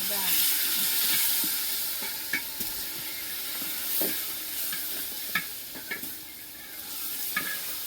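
Rice frying in a pressure cooker for pulao is stirred steadily, with a continuous soft sizzle and scattered scraping clicks of the spoon against the pot throughout.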